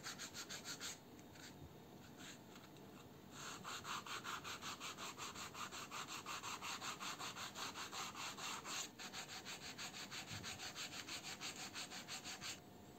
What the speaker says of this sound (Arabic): بعد ما انتهينا بالعمل بالراوتر بنبتدي نصنفر مكان يعني الريشة كده